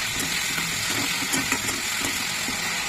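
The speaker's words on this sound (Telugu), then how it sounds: "ఇప్పుడు అల్లం వెల్లుల్లి పేస్ట్ వేసాను కొంచెం. ఇది కూడా కొంచెం వేగాలి." Ginger garlic paste and green chillies fry in hot oil, making a loud, continuous close-up sizzle with faint stirring scrapes underneath and no voices.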